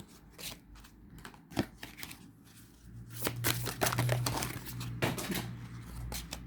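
Tarot cards are shuffled and handled during a reading, giving soft, close rustling and flicking with scattered sharper snaps, including a denser stretch of riffling near the middle.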